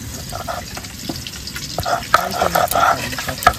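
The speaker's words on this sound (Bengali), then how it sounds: "কড়াই গরম হয়ে গেছে, সর্ষের তেল দিয়ে দেবো, মাছগুলো দিয়ে দেবো একে একে।" Rui fish pieces fry one by one in mustard oil in a hot kadai, a moderate bubbling sizzle that swells partway through, with stirring clatter and no talking.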